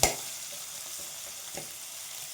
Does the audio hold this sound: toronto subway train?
no